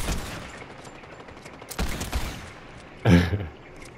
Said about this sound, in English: I hear shots on the ground over this side.